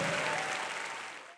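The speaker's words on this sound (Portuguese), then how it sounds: "Vamos aplaudir ao Senhor Jesus, o nosso Salvador." A church congregation applauds at the close of a Portuguese-language worship message, a dense, steady wash of clapping that slowly thins before cutting off.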